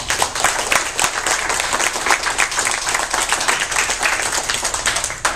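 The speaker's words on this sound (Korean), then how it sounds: "우리 로렌스 팩에게 뜨거운 박수." A crowd at a patriotic lecture event in LA claps loudly and continuously to welcome a speaker, close, dense applause with no voices over it.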